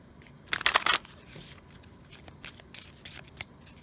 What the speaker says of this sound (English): Let me get the deck and we're going to shuffle it up.